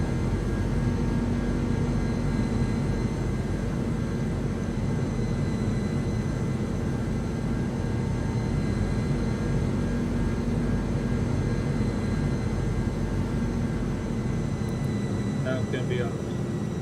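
Lufthansa Airbus A300-600R engines from a flight simulator, a steady broadband cruise drone that stays loud and even throughout, with a few faint clicks near the end.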